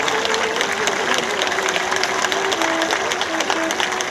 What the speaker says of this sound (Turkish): Bu güzel kare için kuvvetli bir alkış alabilir miyiz?